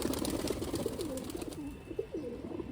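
A pigeon coos in a rolling, repeated series of low throaty calls, close and clear over a steady background hiss.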